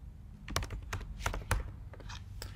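Typing on a computer keyboard: a quick, uneven run of close, crisp key clicks, heard alone without talk.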